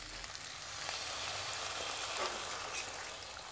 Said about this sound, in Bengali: এই জন্য একটু জল দিয়ে দিলাম